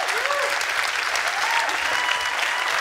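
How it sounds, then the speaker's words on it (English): Conference audience applauding at a 2023 recovery conference session: loud, continuous clapping from a close crowd holds steady throughout, with faint cheers mixed in. "Keep clapping. Don't be stopping."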